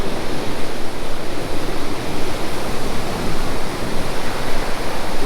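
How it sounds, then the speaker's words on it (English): Ocean waves wash onto the beach at Troncones Point, Mexico, a loud, continuous broadband roar of surf with gentle swells in intensity and no speech. "So this is the walk along the beach here at the point,"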